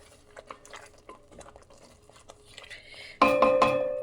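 Spices stirred and roasted in a pan over low heat for a boneless chicken dish, soft scraping and light sizzling, then a louder, brighter burst of stirring and clatter near the end.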